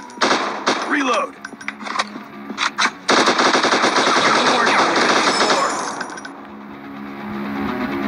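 Video game gunfire: rapid automatic bursts of loud shots, stuttering at first and then a sustained stream that fades away, with a voice speaking over the start.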